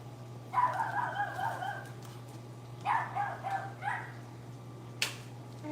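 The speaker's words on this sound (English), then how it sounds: "Nobody cares if you're barking, except for me." A 9-pound small dog barks in a few short bursts at moderate distance over a steady low electrical hum, with a sharp bark near the end.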